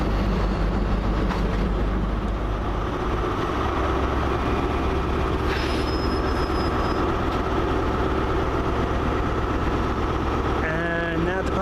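Class 159 diesel unit 159104 rolls into Bristol Temple Meads station from London Waterloo, a loud continuous engine rumble and rail noise with brief squeals near the end.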